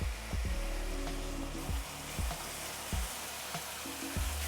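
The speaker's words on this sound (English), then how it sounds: "we'll add in our onion and green chili base that we made. We'll fry it till we get that nice golden brown color." An onion and green chili base fries in hot oil with a loud, steady sizzle, broken by occasional low knocks and scrapes of a spoon in the pan.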